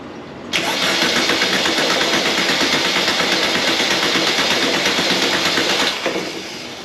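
An air-cooled 1600cc VW Beetle engine, a possible fit for a 1974 VW Bus, cranks and catches, then runs loud and close with a rapid rhythmic chatter for about five seconds before cutting off.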